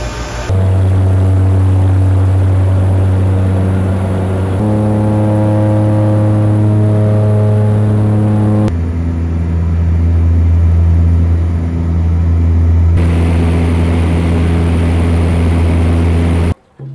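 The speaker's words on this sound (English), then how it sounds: "This is the plane that got us here." A propeller seaplane flies in the Maldives, its loud continuous droning engine and propeller hum filling the cabin, with pitch shifting slightly between steady stretches.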